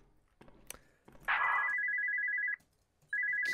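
A phone rings in a horror video game, with a loud electronic ring tone sounding in two bursts separated by a short gap, after softer clicks and rustling.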